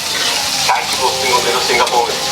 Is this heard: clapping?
no